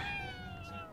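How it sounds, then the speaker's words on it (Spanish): A cat meows in the Ghostwire: Tokyo video game, a single drawn-out, wavering cry heard close and clear, with no talk over it. "Es un gato, acabo de ver la cabeza."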